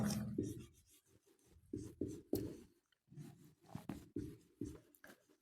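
A marker or chalk scratches across a board in short, quick strokes with brief pauses, close and fairly quiet, with no voice over it.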